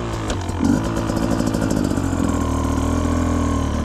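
A 2025 Beta XTrainer 250 two-stroke dirt bike engine idles steadily at close range while warming up, a continuous rattling drone that holds an even pitch throughout.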